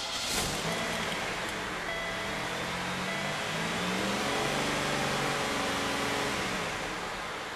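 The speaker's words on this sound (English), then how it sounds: "run the engine up to 2500 RPM and hold it there for 3 minutes" A Buick V6 (Riviera, LeSabre or Park Avenue) held at a steady elevated speed in neutral with the wheels blocked, a constant close engine drone with slight pitch drift and no talk.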